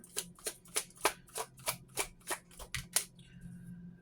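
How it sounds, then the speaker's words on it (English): Cards from a pink deck shuffled in about ten crisp, evenly spaced riffling bursts during a love reading, close and fairly quiet, with no talking. "Think of another question for this pink deck. And I will start shuffling."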